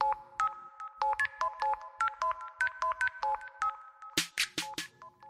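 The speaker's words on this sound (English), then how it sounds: "That's when the phone rang." A telephone rings with a chirpy electronic ringtone, repeated quick beeping tones heard alone and fairly close, followed by a brief burst of sharper clicks near the end.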